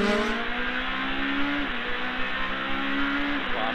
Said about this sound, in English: Through the sequential gearbox, that Honda singing high in the RPM range.